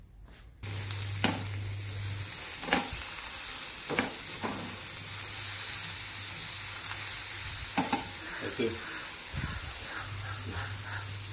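Sardine pieces fry in oil in a pan for a Konkani shevtyache ambot tik dish, giving a steady close sizzle with intermittent scrapes and clacks of a spoon stirring, with no voices.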